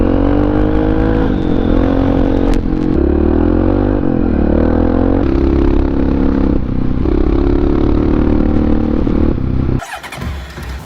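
A Honda XR650R motorcycle engine runs loud and close, with a continuous throaty roar that rises and falls as it revs, then cuts to a rougher clatter near the end.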